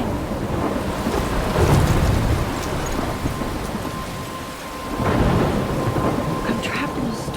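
Thunder rumbles twice through steady heavy rain and wind in Life Is Strange, a loud swelling roll early and a second one later, with rain pattering continuously between them.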